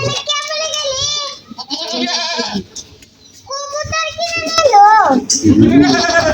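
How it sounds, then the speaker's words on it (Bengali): A goat, one being treated for bloating and indigestion, bleats in a series of loud, wavering, drawn-out calls close by, with short pauses and other noises between them. "ছাগল"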